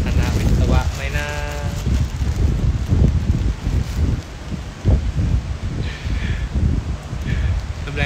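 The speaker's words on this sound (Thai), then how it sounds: "ลมแรงจัด" Strong gusty wind buffets a phone microphone outdoors, a loud rough roar and rumble that surges and dips throughout while people talk over it.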